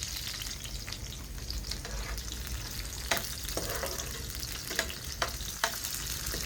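Food with green chillies fries in a pan, a dense continuous sizzle close up with a few faint scraping stirs and clicks scattered through, and no one talking.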